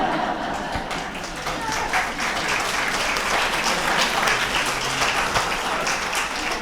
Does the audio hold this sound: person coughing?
no